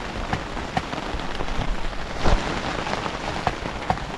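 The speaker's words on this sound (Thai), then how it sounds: "ฝนตก" Rain falls steadily on a forest camp during a night in the jungle, a dense hiss of drops with a few louder splashes and taps on nearby surfaces.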